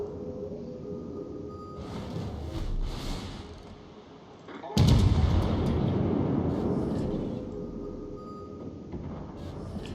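Warship guns fire in the naval battle game World of Warships, a deep booming blast with a sudden loud onset midway, followed by a long rumbling roar that fades slowly over background game noise.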